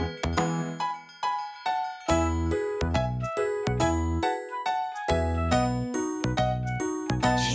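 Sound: chimes ringing

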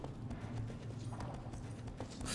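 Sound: horse hooves galloping, Shadow of the Colossus video game

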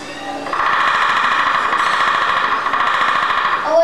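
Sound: woodpecker drumming

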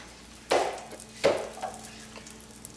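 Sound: salted butter melting and sizzling in a pan

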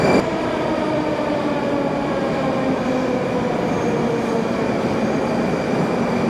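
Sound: subway train in metro station

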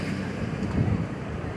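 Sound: strong floodwater current flowing during heavy rain

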